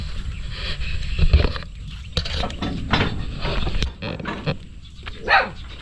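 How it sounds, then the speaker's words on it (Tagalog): A dog barks several times in irregular bursts, some louder and closer than others, amid light background clatter. "tumatahol na si ano ah"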